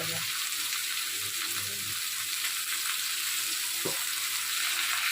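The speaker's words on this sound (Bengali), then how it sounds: "এটা একটুখানি ভাজা ভাজা করে নিচ্ছি" Food boiled with turmeric frying in a pan with a constant close hiss of sizzling oil, a few soft knocks of a spatula, and no talk.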